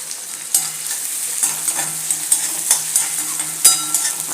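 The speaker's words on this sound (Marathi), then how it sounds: "कांदाही आता व्यवस्थित याच्यात परतून घेऊया" Onion and curry leaves sauté in a pan for a besan okra fry, a soft continuous sizzle broken by repeated sharp clinks and scrapes of a spoon stirring at an irregular rhythm.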